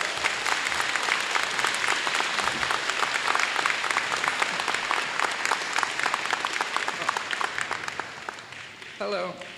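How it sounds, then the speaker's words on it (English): A school assembly crowd applauds top-scoring student Juan Gonzalez with dense, sustained clapping at full strength, thinning near the end as a voice begins speaking. "Can you give a big round of applause to Juan Gonzalez?"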